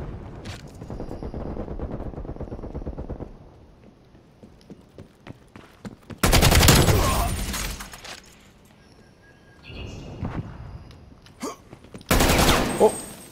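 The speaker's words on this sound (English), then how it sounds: "Oh, shots fired." Bursts of gunfire in Call of Duty Cold War, loud sustained volleys in two separate stretches, with quieter game sounds and scattered clicks between them.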